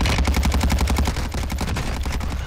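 Rapid automatic MP5 gunfire in a first-person shooter video game, a loud sustained burst of evenly spaced shots lasting the whole stretch with no talk over it.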